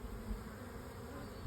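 Honey bees buzz steadily and densely at an open beehive, a close, continuous hum with no talk over it.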